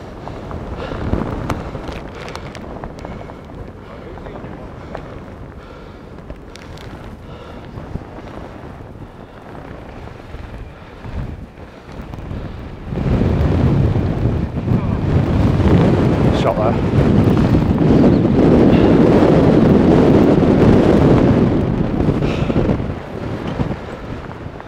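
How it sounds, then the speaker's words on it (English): Strong wind on a mountain top near Black Crag buffets the microphone in a constant roar. It grows much heavier and louder partway through, with occasional talk mixed in. "And it's windy."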